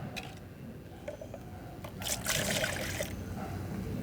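Whey water is poured as a garden fertiliser mix, giving a short, faint splashing trickle in the middle against a quiet background.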